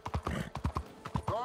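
Horse hooves clip-clopping on a road in Red Dead Redemption 2, a steady rhythmic run of close, moderately loud hoofbeats, with a faint whinny near the end.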